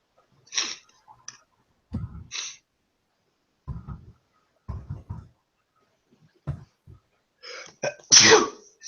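A person sneezes twice: a sharp, breathy burst near the start and a louder, fuller one near the end, with scattered soft clicks and breaths in the quiet gap between.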